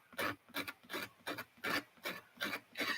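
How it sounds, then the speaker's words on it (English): A craft piece is sanded by hand in about eight quick, even rasping strokes, each a short scratchy burst with brief pauses between, close and clear with no voices. "but let's see if I can sand it down."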